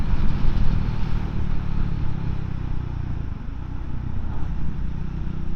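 A Triumph Scrambler 400X motorcycle engine on the road, a low steady rumble with some rolling wind noise, heard close and continuous without much change in revs.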